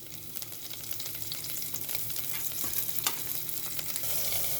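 Cumin and garlic sizzle in hot oil at the start of a ladyfinger curry. The crackle is steady and moderately loud, with a few stirring taps and no talking.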